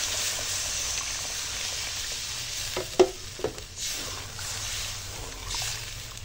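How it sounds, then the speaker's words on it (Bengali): Fried spice paste for a green pea potato curry sizzling in a pan as water is poured in, a steady hiss broken by a few sharp splashing bursts near the middle, no talking. "মশলা কষানো হয়ে গেছে, এই যে এবার জল দিয়ে দেবো"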